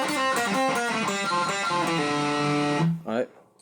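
The second-verse fill of a song on distorted electric guitar: a fast, dense run of picked and legato notes that ends on a sustained note, then cuts off.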